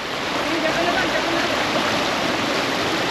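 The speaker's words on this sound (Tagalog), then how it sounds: "Sobrang lakas ng agos ko." Strong river current rushing loudly and steadily, a dense broadband wash of flowing water close by, filling the whole stretch without pause.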